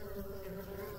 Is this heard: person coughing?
no